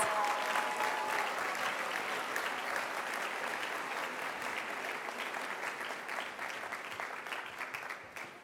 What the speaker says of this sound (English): How about a round of applause for these kindergarten students and our graduates?